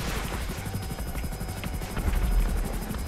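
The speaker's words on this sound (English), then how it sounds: "Oh, that's a helicopter." A helicopter flies in the video game GTA 5 Online, its rotor giving a loud, steady, rapid chopping thump with a whine over it, close by and with no talking.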